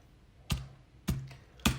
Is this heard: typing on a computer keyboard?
yes